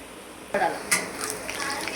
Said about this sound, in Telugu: చూసారా, ఉల్లిపాయలు బాగా బ్రౌన్ వేగాయి కదా.